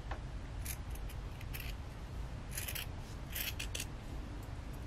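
Scissors trim fabric on an in-the-hoop zipper pouch, giving close, crisp snips in irregular bursts over a soft rustling background.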